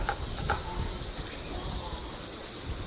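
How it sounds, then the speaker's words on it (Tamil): Butter melting in a hot pan gives a steady, soft sizzle and hiss, close and continuous, with a couple of faint clinks near the start. "வெண்ணெய் இன்னும் கொஞ்சம் உருகணும் நல்லா உருகட்டும்"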